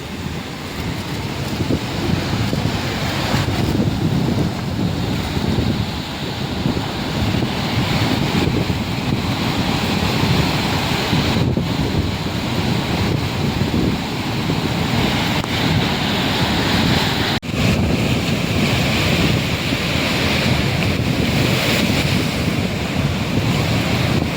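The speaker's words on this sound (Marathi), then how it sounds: "खूप खवळलेला समुद्र आहे आज" Rough, churning sea waves crash continuously on a shoreline where people have gone fishing, a loud steady roar of surf mixed with heavy wind buffeting the microphone, with no pauses throughout.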